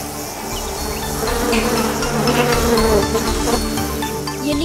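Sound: swarm of buzzing golden insects in animation

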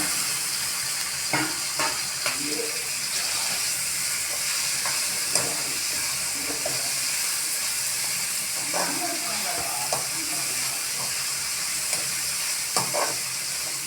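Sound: tomato pieces frying and stirred in pan

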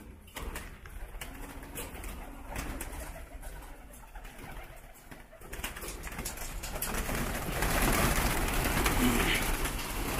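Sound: pigeons cooing on a rooftop loft

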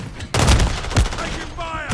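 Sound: gunfire in a Call of Duty video game

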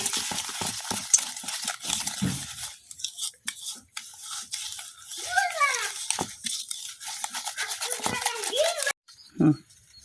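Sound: stirring egg and sugar together in a bowl

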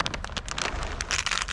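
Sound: rain falling outside

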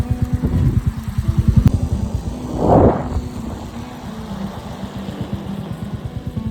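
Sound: motorcycle riding

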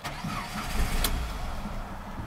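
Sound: Chrysler PT Cruiser engine starting then stalling

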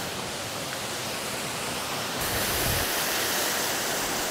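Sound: waterfall, Cascada Grande in Valle del Lunarejo

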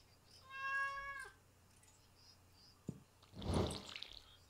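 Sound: cat meowing in Stardew Valley video game

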